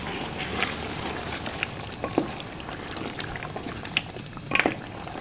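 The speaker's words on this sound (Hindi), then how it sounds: "और अब हमने दही को और इसको मटन को अच्छी तरह से भूनना।" Mutton and yogurt with a splash of water being roasted in a karahi bubble and spit continuously, with occasional scrapes and clinks of a spoon against the pan, close and fairly busy, no voices.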